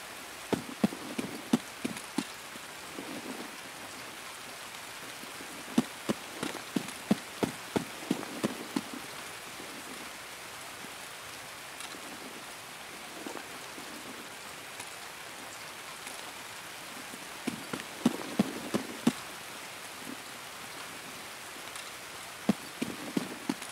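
Steady rain falls in the video game Escape from Tarkov, a continuous broadband hiss broken by bursts of sharper clicks and footstep-like clops. It holds a fairly even level throughout, with no speech.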